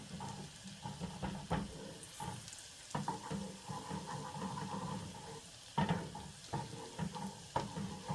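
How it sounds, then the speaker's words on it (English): Garlic fries in a pan for an Alfredo sauce, giving a quiet sizzle broken by repeated scraping and clinking as it is stirred. "is you got to keep stirring. You can see that the garlic is still white."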